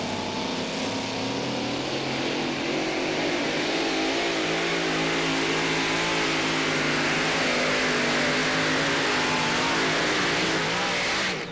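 A 1938 Packard Army truck engine roars at sustained high revs during a two-wheel-drive truck pull at a tractor pulling event, loud and continuous, with its pitch climbing and wavering throughout.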